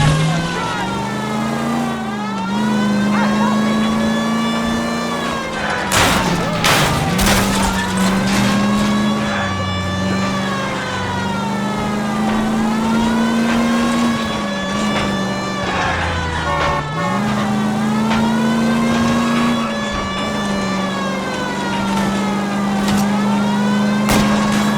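Engines roar and rev continuously through a car chase in the 1947-set video game L.A. Noire, with pitch rising and falling as the cars accelerate, plus a few sharp impact bursts, loud and steady throughout.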